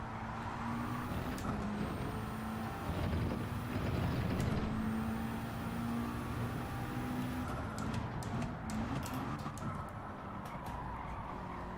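A McLaren race car in Gran Turismo 7 holds a steady, close engine drone with a tonal whine, running continuously with slight pitch shifts and no talk.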